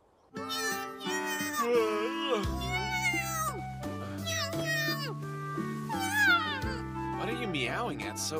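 An anime-style cat meow effect comes through as a series of close, bright, pitched mews in quick succession, varying in length and inflection, loud and alone throughout.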